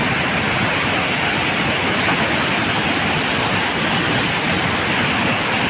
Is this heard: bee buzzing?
no